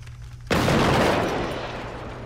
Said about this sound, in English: Long-range pistol, go!